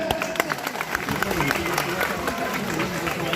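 A crowd at a political rally applauds with dense, continuous clapping, mixed with voices and a speaker talking over it.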